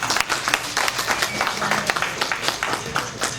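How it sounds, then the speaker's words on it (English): An audience at a community gathering claps for itself, a brisk burst of applause with distinct individual hand claps, fairly close and loud, continuing steadily for a few seconds. "So I want you to please clap for yourself for being here,"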